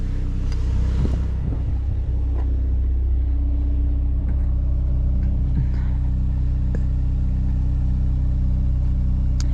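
A 2025 Mercedes-AMG C63 S idles with a steady, deep, smooth rumble, close and fairly loud. A few light pops and revs come early, then it settles into an even drone.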